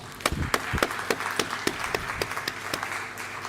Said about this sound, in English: I want us to give her another round of applause.